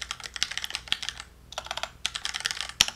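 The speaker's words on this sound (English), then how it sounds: "Type in inventory.beamhosting.net." Rapid typing on a computer keyboard, close and clear, in irregular bursts of clicking keystrokes with a short pause near the middle and a sharper final key press.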